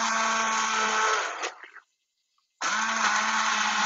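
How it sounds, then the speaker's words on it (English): An immersion blender whirs steadily through a thick, fibrous rice-and-pea soup, cuts out for about a second, then starts up again at full volume. "you kind of have to work at it to get the immersion blender to actually blend everything"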